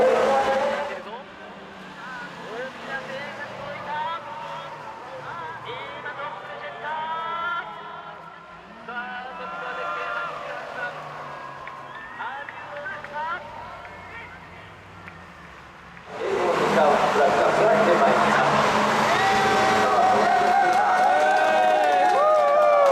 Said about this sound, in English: the Car View MX-5 rounds the last corner to take the checkered flag